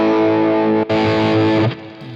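A loud, gritty distorted electric guitar chord rings, briefly breaks, then strikes again and sustains before fading, with a swirling chorus shimmer.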